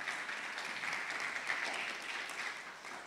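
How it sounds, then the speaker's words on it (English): Audience applause at a national tourism public speaking competition, an even, continuous patter of many hands that sounds somewhat distant and fairly quiet throughout. "Let's give them a round of applause"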